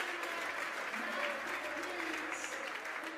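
Crowd at a CrossFit semifinal event cheers and applauds a heat winner, steady dense applause and cheering from a large audience with voices mixed in throughout.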